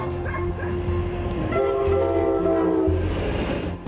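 Coal train on a railway along Colombia's Caribbean coast, its horn sounding as a steady tone over the deep continuous rumble of the rolling wagons, loud and close throughout.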